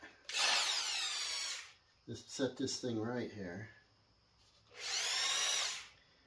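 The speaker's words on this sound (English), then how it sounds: "Are we on hammer and drill mode?" A hammer drill whirs loudly in two long bursts, one at the start and one near the end, with someone speaking briefly in between.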